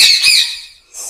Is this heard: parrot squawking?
yes